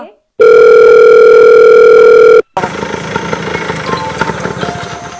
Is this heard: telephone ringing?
yes